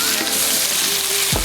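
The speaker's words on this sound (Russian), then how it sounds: "добавляем наши овощи в вок, кроме лука-порей." Vegetables, minus the leeks, frying in a wok for an Asian noodle dish, giving a steady, close hiss of sizzling with faint stir clatter and a brief scrape near the end.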